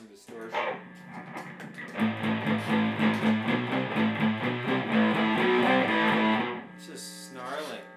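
Electric guitar run through distortion, played as a sustained, chugging riff of repeated chords and notes that rings out for several seconds before stopping, loud and close with a short pickup of strumming at the start and end.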